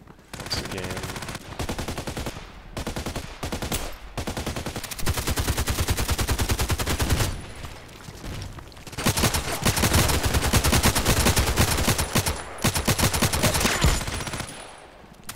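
Sustained automatic gunfire in the online shooter Contract Wars on the Bay map, loud rapid bursts running nearly nonstop with brief pauses between volleys.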